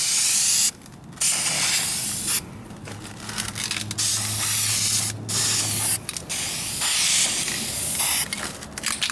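A light tack coat of aerosol spray paint goes onto the rear bumper of a 2004 Kia Spectra, heard as loud close hissing bursts of several seconds each, separated by brief pauses.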